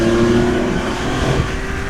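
An air-cooled Porsche 911 flat-six being revved, a loud, close engine note that rises and falls quickly in a short burst.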